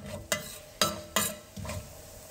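Mustard seeds and cumin spluttering in heated oil for sambar, with several sharp pops and crackles rising out of a soft, steady sizzle.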